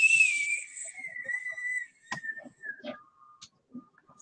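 A person imitates a little whistle with their voice: a clear, high, sustained tone that slides gently downward, then a few brief, faint clicks and softer whistled fragments.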